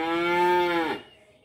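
A single loud, close moo from a cow on a cattle farm: one sustained, droning call that cuts off abruptly, leaving quiet farm background.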